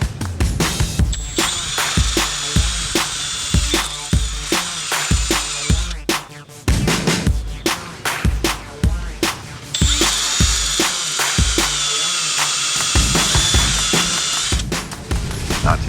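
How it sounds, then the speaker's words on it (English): A power drill whirs in repeated short bursts, drilling a hole in a cracked boat rudder, with rhythmic ratcheting clicks and two longer high-pitched whining runs, loud and close. "So we're going to drill a hole, see what happens here."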